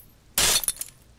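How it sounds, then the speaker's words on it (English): Window glass is smashed with a pry bar in the Disco Elysium video game: one sudden loud crash followed by a brief scatter of tinkling shards, close and alone. "He smashes it into the window."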